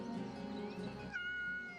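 A cat meows in the video game Yes, Your Grace, a drawn-out tonal cry that rises and holds steady, sounding close and clear over soft game music, with no talking.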